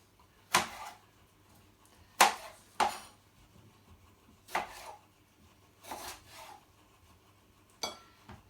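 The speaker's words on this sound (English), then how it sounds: "We're simply going to quarter the tomatoes." Knife quartering tomatoes on a board: six separate sharp cuts with gaps between them, crisp and close, each a short scraping thud. No voice is heard.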